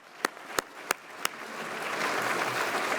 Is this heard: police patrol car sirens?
no